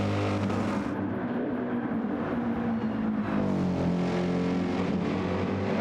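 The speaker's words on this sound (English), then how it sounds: "deep note coming out of that exhaust, the back of that AMG" An AMG race car in a racing video game, Goodwood endurance race, gives a deep, continuous exhaust drone with shifting engine pitch, loud and constant with no voices over it.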